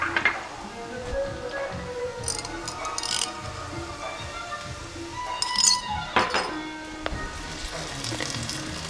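A spoon stirs chicken stroganoff in a pot coming to a boil, with irregular metallic clinks and scrapes against the pot over a soft bubbling simmer.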